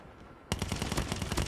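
Rapid automatic gunfire in the mobile game Call of Duty Mobile bursts in after a half-second lull, loud continuous shots in a fast steady rhythm.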